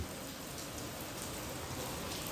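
Rain falls in a steady, even hiss of dense drops during a hot spell, constant and moderately loud throughout with no voices.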